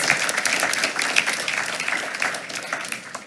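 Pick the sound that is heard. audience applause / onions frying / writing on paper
audience applause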